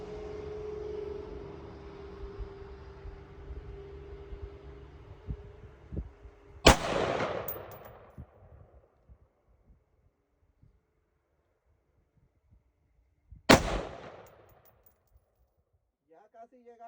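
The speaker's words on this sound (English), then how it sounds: "5 more shots." Two sharp, loud rifle shots during bore sighting, several seconds apart, each followed by a short echoing decay, after a fading engine-like hum and a few faint clicks.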